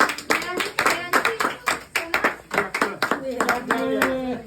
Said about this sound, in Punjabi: ਜੋਰ ਦੀ ਤਾੜੀਆਂ ਮਾਰੋ